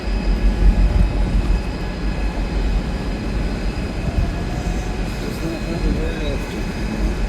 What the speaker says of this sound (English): Train just went through.